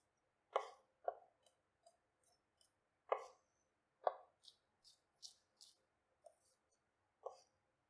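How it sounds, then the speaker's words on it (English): A knife slices and rough-chops peeled fresh garlic on a cutting board, giving a quiet, irregular series of sharp taps and clicks with short pauses between strokes. "Just slice it and then rough chop it."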